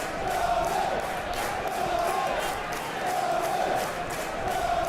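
Stadium crowd in the football video game SP Football Life 2026, a steady, fairly loud roar of massed voices with swelling chants, continuous throughout.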